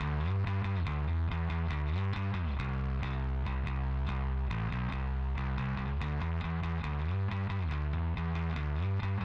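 Bass guitar through a mic pre-gain effect, a steady, loud line of plucked notes with gritty, driven harmonics and no voices.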